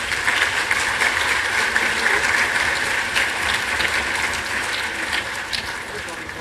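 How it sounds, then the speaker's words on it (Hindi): An audience in a hall applauds children at an award ceremony for creative arts, a steady, dense clapping that holds loud and even throughout, with faint voices beneath. "आप सभी से अनुरोध है कि जोरदार तालियों से इन बच्चों का हौसला बढ़ाएं।"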